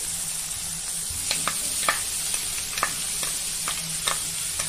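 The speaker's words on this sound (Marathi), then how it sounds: "त्यानंतर आपण हा कांदा घालूया बारीक केलेले" Steady sizzling of onions frying in a pan, broken by several sharp scraping clicks of a spoon stirring at irregular intervals.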